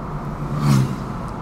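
Inside a moving manual-transmission car on the Miyagase lake drive course in Kanagawa, a single oncoming car whooshes past in a brief swell over steady engine drone and wind rushing through the cabin.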